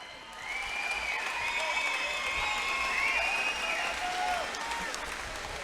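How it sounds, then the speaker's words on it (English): Crowd applause for two Muay Thai fighters at an Eruption Muay Thai event, a steady wash of clapping and cheering under an announcer's voice in the arena. "Please give both fighters a big round of applause."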